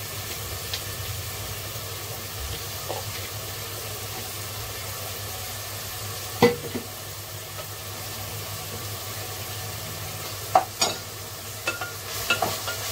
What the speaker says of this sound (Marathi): कांदा मस्त आपण शिजवून घेऊ.